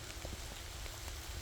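Gentle rain patters steadily on an afternoon pasture where animals graze, a constant close hiss with light drop taps throughout.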